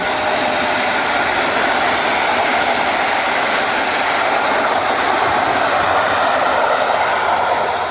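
An Intercity Górski train hauled by a Griffin EU160 electric locomotive passes close by near Warszawa Zachodnia, a loud continuous roar of wheels and rushing air that holds steady throughout, with no voices.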